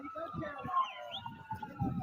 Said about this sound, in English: What's that police siren in the back?